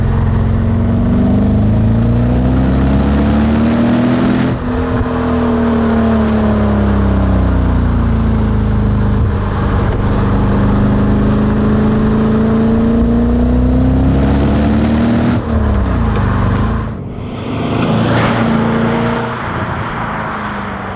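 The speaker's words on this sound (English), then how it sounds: "Let's enjoy a bit of 928 noise." A 1991 Porsche 928 GT's V8 engine revving up and down repeatedly, rising and falling in pitch as the car drives, close and continuous.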